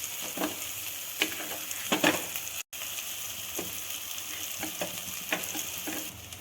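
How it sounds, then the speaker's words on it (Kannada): Rice being stirred into a hot oil tempering in a pan for curry-leaf chitranna, a steady frying sizzle with repeated scraping stir strokes, close and alone, with one brief dropout partway through. "ಇವಾಗ ಎಣ್ಣೆ ಎಲ್ಲ ಚೆಂದಂಗೆ ಫ್ರೈ ಆದಮೇಲೆ ಇದಕ್ಕೆ ಎಷ್ಟು ಇಡ್ತೈತಿಲ್ಲ ಅಷ್ಟು ರೈಸ್ನ ಮಿಕ್ಸ್ ಮಾಡ್ಕೋಬೇಕು."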